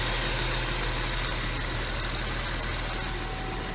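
A 2008 Infiniti G37 engine idles steadily with a smooth, even hum close by, its tone holding constant throughout after timing chain and gallery gasket repair work.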